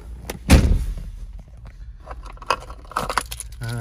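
A 2004 Dodge Viper SRT-10 Mamba edition door shuts with a solid, loud thud, followed by softer close rustles and small clicks from inside the cabin, with no talking.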